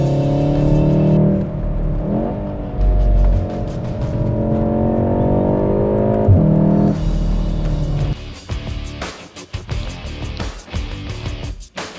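An Audi S3 or VW Golf R accelerates hard in Race mode, the engine note climbing through rising revs with quick gear changes, loud and close, before giving way to wind and road rush.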